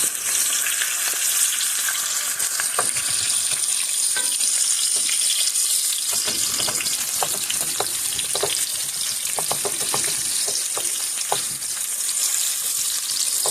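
Finely chopped chicken liver fries in a pan with a continuous, close hiss of sizzling oil. Scattered sharp crackles and spits sound throughout, with no talk.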